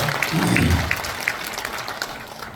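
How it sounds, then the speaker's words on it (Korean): Brief burst of audience applause at a cultural concert in a performance hall, with a low voice-like murmur early on before the clapping thins out. "큰 박수 한번 보내주시기 감사합니다"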